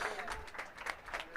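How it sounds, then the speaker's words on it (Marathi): Spectators at an outdoor box cricket match give a short, faint burst of scattered clapping. A voice can be heard talking over it. "जोरदार टाळ्या झाल्या पाहिजे"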